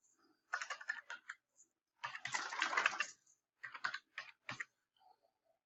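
Typing on a computer keyboard close by, with short bursts of rapid key clicks separated by pauses, heard alone with no talk.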